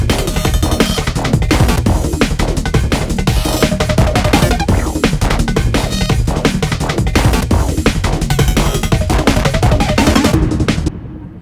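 Resampled, chopped-up audio sample with added effects forms a plucky, fast 16th-note music track, dense and loud throughout before cutting off near the end.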